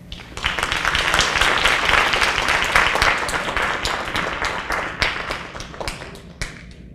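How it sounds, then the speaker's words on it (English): Sustained crowd applause for a high school student speaker at an MLK oratorical contest, dense and steady clapping that swells early and gradually thins toward the end. "Give Sage Wilson a round of applause."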